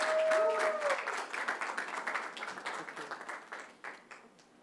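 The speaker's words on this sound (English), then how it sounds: "Let's have a round of applause." An audience at an awards ceremony applauds, dense clapping that starts strong and gradually thins and fades, with a brief voice near the start.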